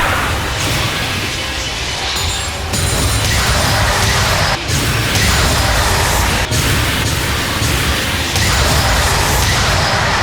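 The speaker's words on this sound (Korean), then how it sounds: "직세 지옥화염 폭탄" Ziggs's hellfire bomb ability in League of Legends: a dense, loud wall of explosive booms, crashes and whooshes filling the whole stretch with only brief dips, no voices.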